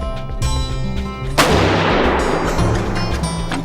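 Rifle shots fired while sighting in for a 200-yard zero, a sharp loud report with a booming tail rolling out over an open range, after some low background rumble.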